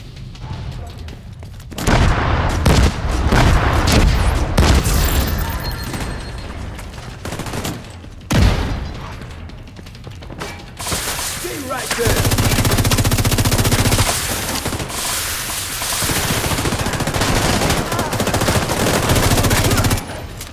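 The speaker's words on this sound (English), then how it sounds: "Taking fire." Sustained machine-gun fire and booming shots during a stronghold assault on the Capitol Building in The Division 2, loud and close, with heavy bursts and a long rattling stretch, and voices heard at times.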